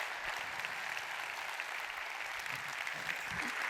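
An audience at a conference talk session gives dense, continuous applause. The clapping forms a steady wash of many hands heard from within the hall at even loudness throughout.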